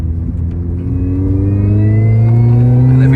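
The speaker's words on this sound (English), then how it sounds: "you'll hear the supercharger whine a lot more" A Mini Cooper S R53 revs up with its supercharger, a rising whine climbing steadily over the engine note, loud and close with the pollen filter removed and recirculation off.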